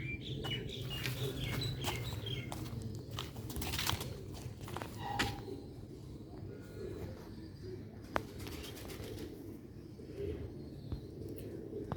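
Rare Sialkoti pigeons cooing in a low, rolling murmur, several birds close together with soft overlapping calls, a few brighter chirps and faint background noise.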